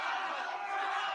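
A large crowd roars and cheers steadily at a Trump rally in Concord, New Hampshire, a dense, distant wash of voices with no break.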